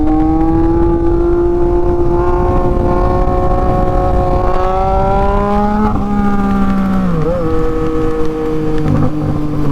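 A Yamaha MT-09 motorcycle engine, loud and close, holding a steady high drone that climbs slowly, then dips and shifts pitch a couple of times as the revs change, with wind noise mixed in.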